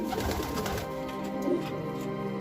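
Pigeons that have just finished flying coo softly against a dense, steady background murmur, with one faint coo standing out midway and no speech.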